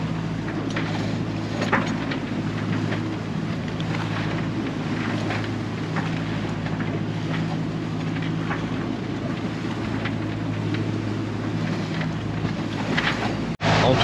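A sailboat's engine, just restarted, runs steadily at about 1500 rpm out at sea, a constant low drone under wind and water noise, ending with a brief bump.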